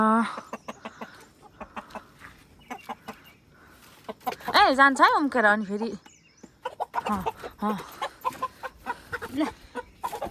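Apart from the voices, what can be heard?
rooster clucking in a coop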